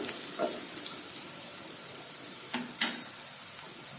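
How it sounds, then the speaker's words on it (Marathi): Garlic crisping in hot oil for a Maharashtrian bhendi (okra) dish, a steady soft sizzle with a couple of brief spatula scrapes against the pan, no talking. "याला एकदम क्रिस्पी असं छान परतून घ्यायचं"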